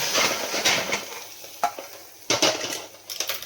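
Mustard seeds spluttering in hot oil in a pan, a soft crackling sizzle broken by a few sharp pops and clinks, close and fairly quiet, with no talking.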